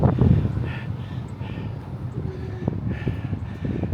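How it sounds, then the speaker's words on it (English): Strong wind buffets the microphone on a high, exposed spot, a gusty rumbling roar that rises and falls throughout with faint distant background sounds. "It's very windy. It's definitely windy."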